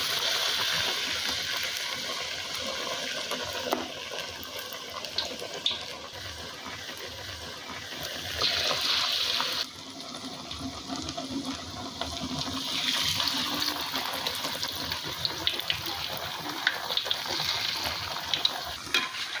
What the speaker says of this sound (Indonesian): Goreng di api sedang.